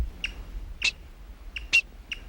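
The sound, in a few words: black-backed woodpecker call, probably female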